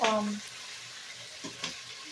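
Potatoes and onions frying in a pan give a steady, soft sizzle throughout, with a few light clinks of stirring and a brief voice at the start.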